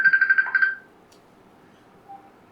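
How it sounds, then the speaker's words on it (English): A phone rings with an incoming call, a rapid warbling electronic ringtone in quick pulses that cuts off after under a second, leaving near silence. "I'm being phoned."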